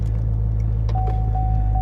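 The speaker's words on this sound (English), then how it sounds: "She started right up. I don't think there's any problem with the engine at all." A Ford Mustang with a Coyote V8 idles steadily, a low, even rumble with a faint whine rising partway through, heard alone and close by.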